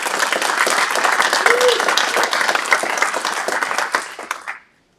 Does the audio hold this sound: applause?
yes